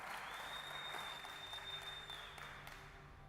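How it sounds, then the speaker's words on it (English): A conference crowd at ETHBarcelona's Solar Stage applauds the next speaker, a dense, even wash of clapping that holds steady and tapers slightly toward the end, with a thin electronic tone running through. "So give a huge round of applause for Nicholas,"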